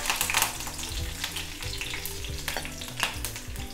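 Mustard seeds and urad dal frying in hot oil for a Tamil tempering, a busy close sizzle with sharp popping crackles scattered throughout and brighter bursts near the start and again toward the end.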